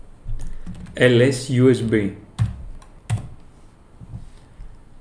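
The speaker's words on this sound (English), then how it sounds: "open a terminal and type the following command" Typing a terminal command on a computer keyboard during a Linux setup: a few quick, close key clicks that come mostly between and after bits of spoken words.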